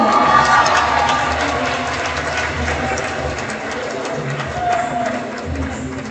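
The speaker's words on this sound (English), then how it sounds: "we continue to cheer Shalona along" Crowd cheering and applauding a graduate at a Kingston Technical High School graduation ceremony, a steady, dense roar of voices and claps that stays loud throughout with a slight swell near the end.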